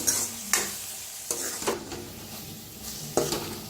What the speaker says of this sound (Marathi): आता मिक्स करून छान असं भाजून घेऊया